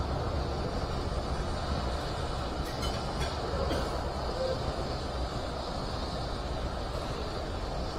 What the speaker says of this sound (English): Currently, the Merlin 1B engines are operating at full power.